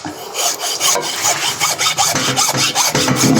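A hacksaw cutting through beef bone rasps back and forth in quick, steady strokes, harsh and gritty, close up with no talking.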